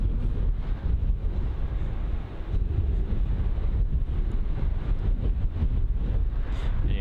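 Strong 45 mph wind at London Heathrow airport, a constant loud roaring buffet across the microphone with gusty swells, no voices.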